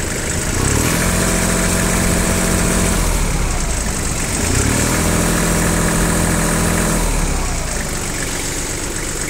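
A three-cylinder, liquid-cooled Japanese diesel tractor engine idles steadily up close, its low throbbing hum constant throughout, with a brief rise in revs twice.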